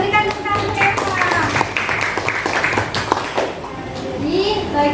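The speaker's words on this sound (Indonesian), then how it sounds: "Kita berikan tepuk tangan untuk Eva." Classroom applause for a student named Eva, a short burst of clapping from children with young voices talking and calling out over it, close and lively throughout.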